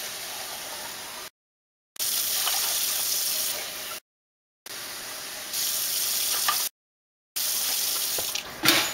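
Water pours from a can into a pot of vegetarian chili in three separate steady streams, close and moderately loud, with short silences in between.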